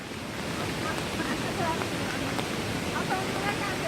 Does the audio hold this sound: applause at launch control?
no